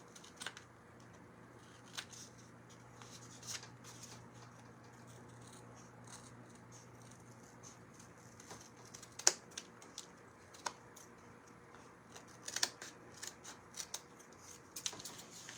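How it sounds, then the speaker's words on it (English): Scissors snip through a paper bag candy-corn craft, giving scattered, irregular quiet cuts and clicks spread over a soft, steady background with no talking. "And then I'm just going to trim some of that off."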